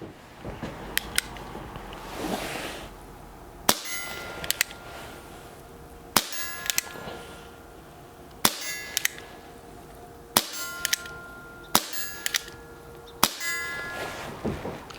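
Schofield revolver shots ring out one at a time, about six sharp cracks spaced a second or two apart, each with a bright metallic clang off a steel target, heard outdoors with no talking.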